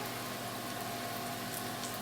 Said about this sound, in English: Oh, it's sizzling. Can you hear it?